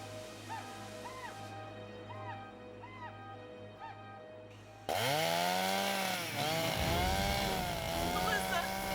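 A loud chainsaw engine suddenly roars to life, revving and bogging as it bites into wood, after a stretch of quieter rhythmic noise.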